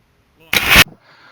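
An Estes Black Brant model rocket lifts off on a D engine, giving one loud, sharp rushing blast that lasts about a third of a second after a brief click, then fades into faint outdoor noise.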